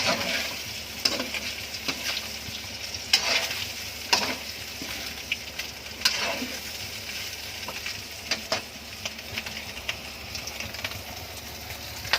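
Ingredients fry in hot oil for a Visayan kinabog dish, a steady close sizzle broken by occasional scrapes and stirring clatters, with no talking.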